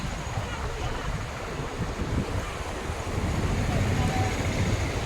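Sea waves at Kakinada beach, a continuous broad roar of surf with wind buffeting the microphone, swelling slightly louder toward the end, with no clear voices.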